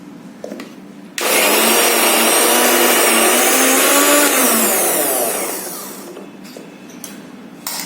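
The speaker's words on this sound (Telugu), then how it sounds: "చక్కగా 1 సారి 2 సార్లు మిక్సీని బట్టి వేయండి" A kitchen mixer grinder grinds curry leaves with tamarind and water, roaring loudly and steadily for about four seconds before winding down. Brief quieter bursts of the motor come just before and after the main run.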